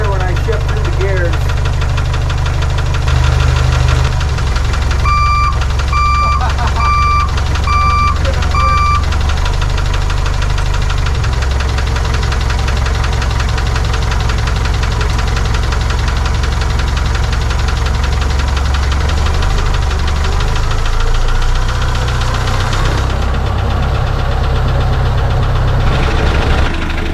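An Austin-Healey Sprite engine runs steadily near the microphone with a rough, knocking idle, its tone stepping and shifting as the gears are worked through, with faint beeping tones partway through.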